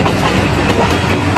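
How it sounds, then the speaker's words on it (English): A passenger train rolls along loudly and close, its wheels clattering in a steady clickety-clack over the rails, with no voices. "They went their separate ways, and Gyeon-woo boarded the train first"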